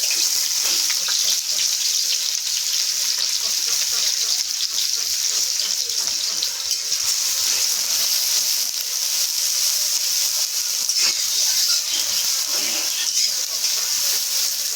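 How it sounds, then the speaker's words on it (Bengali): Onions frying in hot oil for an eggplant and shidal dried-fish bharta, a dense continuous hiss and sizzle at steady loudness with no clear talk. "সর্বপ্রথমে তেলের গরম তেলের মধ্যে পেঁয়াজ দিয়ে দিয়েছে"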